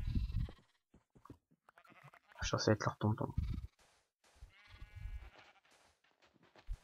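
Sheep bleat in a jungle-island survival video game: a loud burst of overlapping bleats in the middle, with someone talking in French before and after.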